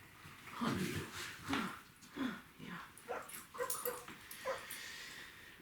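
A dog, a female trained with hand signals, gives a run of soft whimpers and small yips, several short high whines in an irregular rhythm at close range, with no talk over them.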